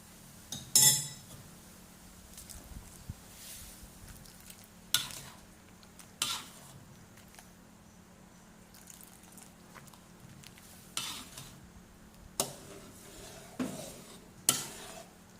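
A metal utensil stirs pork rad na in a pan, with sharp intermittent scrapes and clinks spaced several seconds apart over a faint steady hum and a quiet background sizzle.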